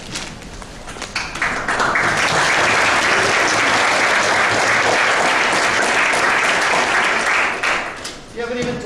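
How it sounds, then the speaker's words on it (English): Audience of cadets clapping during a briefing, swelling into loud, dense applause that holds steady, then tapers off near the end as a voice begins talking. "You haven't even done anything and you're getting a clap."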